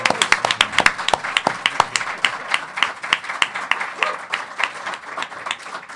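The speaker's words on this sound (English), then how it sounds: "Let's have a big round of applause for Mr. Rafer Roberts." A crowd at a comics publisher's summit claps enthusiastically, a dense burst of applause that stays lively for several seconds before gradually thinning out.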